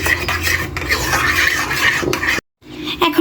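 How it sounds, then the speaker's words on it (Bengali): A spoon scrapes and swirls through a thick mixture of condensed milk and other ingredients for a fruit dessert, a close, rhythmic rasping broken by one brief silent pause before stirring resumes. "এখন আমি সব কিছু একত্রে মিক্স করে নিচ্ছি।"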